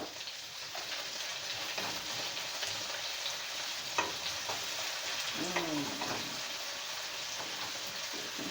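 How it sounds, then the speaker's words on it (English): Garlic sizzling with beets in a pan and being stirred gives a steady close fry hiss with soft scraping strokes, and one brief clink partway through. "And we're going to stir around that garlic."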